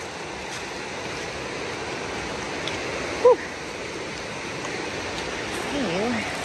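Continuous rushing of White Top Laurel Creek on Virginia's Creeper Trail close by, a steady watery hiss with a brief voice and a bird call over it.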